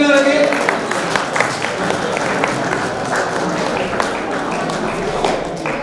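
Steady applause from an audience at a chess tournament prize ceremony fills the room for the whole stretch, a dense, even patter of many hands clapping, with a voice briefly heard at the start.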